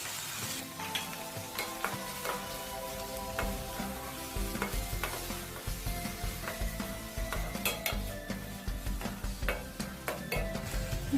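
Tomatoes sizzle in hot oil in a pan for a Malvani chicken liver masala while a spoon stirs and clinks against the pan. The frying hiss is steady and close, with frequent scraping strokes.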